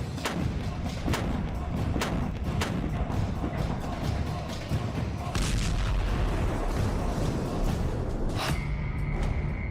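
An M777 howitzer fires GPS-guided M982 Excalibur artillery shells, heavy booms and thuds repeating over a constant rumbling, noisy background.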